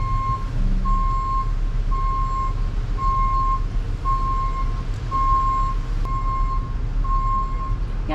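A truck's reversing alarm beeps steadily in evenly spaced pulses while it backs up, over a constant low engine rumble from nearby vehicles, with no talking.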